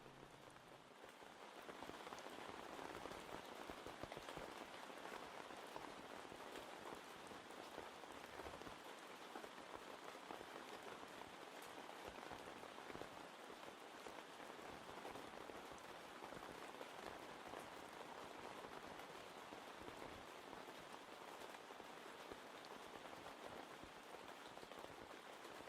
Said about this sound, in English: Once again, we'll spend a little bit of time just sitting in the rain.